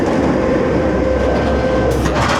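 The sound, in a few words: Nemesis Inferno roller coaster train passing by at Thorpe Park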